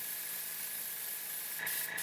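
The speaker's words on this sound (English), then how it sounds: "I'm airbrushing some black paint on the burnt side just to get it blended" An airbrush sprays black paint onto a Michael Myers Halloween mask, giving a steady close airy hiss that briefly shifts near the end.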